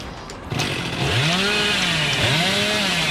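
A chainsaw in a horror video game revs up hard after a brief quiet start, its whining engine pitch rising and falling in two sweeping surges, loud and continuous.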